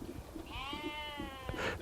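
A small sheep or lamb bleats once in a long, wavering cry in a veggie garden, fairly close and moderately loud over faint outdoor background noise.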